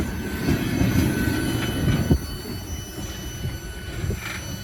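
A heavy train rumbles past nearby a road crossing with steady low roar, rattling wheels and occasional clanks, continuous throughout.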